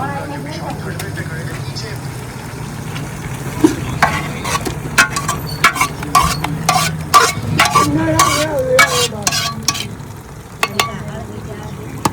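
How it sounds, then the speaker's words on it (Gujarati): Hot oil for a vaghar spits and crackles as spices go in for eggplant bharta at a Gujarati family cooking gathering. Sharp sputters and stirring clatter start after a quiet stretch, with people talking throughout. "હવે એ ભરતાનો વઘાર કરશે અને પછી ભરતું બનાવશે મસ્ત"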